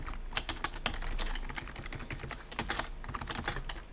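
Code being typed on a computer keyboard: rapid, irregular clacking keystrokes heard up close, with brief pauses between bursts and no voices.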